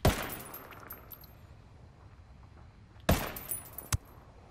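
MK-17 rifle shots in Ghost Recon Wildlands, a sharp crack at the start, then quiet ambience before another loud shot followed by a shorter third one.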